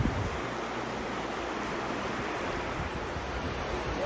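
A river flowing through the mountain valley of Har ki Doon, a steady broadband rush of water with wind, constant and fairly loud, with no voices.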